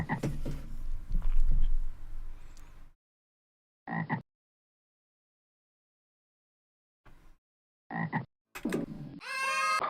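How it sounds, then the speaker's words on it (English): Frog croaking in the video game Elf Bowling: a few short, separate croaks with silent gaps between them, framed by louder game sounds at the start and end. "Here's the frog."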